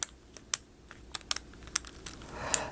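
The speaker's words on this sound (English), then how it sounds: "the mechanism to make it go is some kind of ratcheting thing so you can hear it clicking" Small plastic ratcheting mechanism in the legs of a vintage DC Super Powers Aquaman action figure gives off sharp, close clicks in an irregular series, several quick ticks with brief pauses between them, alone with no talk.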